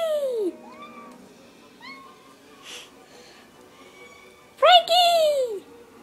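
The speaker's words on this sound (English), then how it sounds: "whenever I go, Frankie, which is his name, he'll meow" A pet cat answers when called with several meows, a high drawn-out cry at the start and a louder, longer pair near the end, with fainter chirps between; a person calls to it between the meows.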